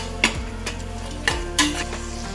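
Mushrooms sauté in a pan for mushroom biryani, with a continuous close sizzle broken by a few sharp stirring scrapes and clinks. No voices.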